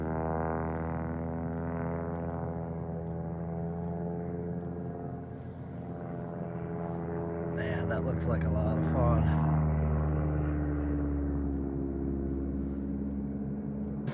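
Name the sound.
propeller airplane flying overhead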